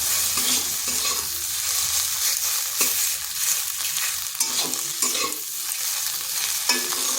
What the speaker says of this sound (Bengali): এইভাবে 2 থেকে 3 মিনিট একটু নেড়ে নিচ্ছি